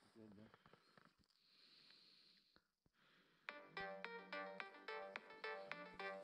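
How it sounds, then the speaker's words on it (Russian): During a fishing trip on Kamchatka, a mobile phone rings close by in a repeating, evenly spaced electronic melody, preceded by quieter rustling and breathing. "Звонят."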